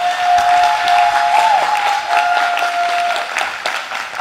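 An audience applauds at a film cast presentation in Naples, a steady loud wash of clapping from a crowd, with a thin sustained whistle-like tone running over it for the first few seconds.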